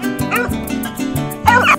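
Foxhounds and beagles on a wild boar hunt bay and yelp in rapid overlapping bursts, loud and close, with excited cries and a voice mixed in.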